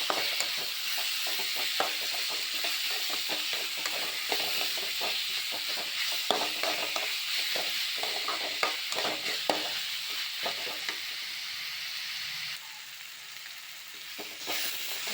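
Prawn masala with tomato sizzling in a hot pan, a dense, continuous frying hiss with frequent scraping and clinking as a spatula stirs, steady throughout and easing slightly near the end, with no voices.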